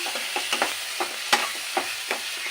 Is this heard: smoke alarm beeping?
no